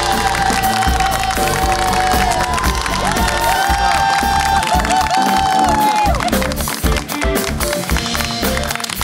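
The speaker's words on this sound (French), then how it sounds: "Je vous demande d'applaudir bien fort mon invité de ce soir" Studio audience at an evening talk show cheering and clapping loudly for an arriving guest, with whoops, shouts and dense applause over music that runs throughout.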